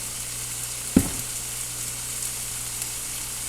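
Leftover chicken and shrimp fry in a pan with onion and garlic powder, giving a continuous close sizzle and one brief louder stirring scrape, with no talk.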